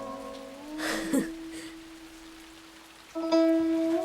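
Steady rain falls at night with a soft continuous patter, joined by a sustained tone and a few louder rustling bursts, without speech.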